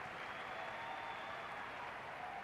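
Stadium crowd applauding at a Real Mallorca football match, a steady wash of distant clapping with no breaks, fairly faint.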